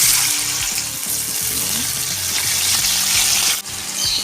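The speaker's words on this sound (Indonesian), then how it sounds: "Setelah panas, kita goreng tahunya dulu ya." Tofu fries in hot oil in a home kitchen, a loud, continuous dense sizzle and crackle close by, with a few low clinks of utensils and no speech.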